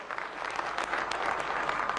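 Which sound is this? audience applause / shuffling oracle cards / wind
audience applause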